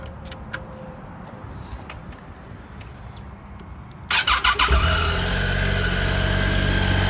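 A Triumph Tiger 800 XRt motorcycle engine cranks and fires after a quiet stretch, catching with a quick burst of uneven pulses before settling into a loud, steady idle close by.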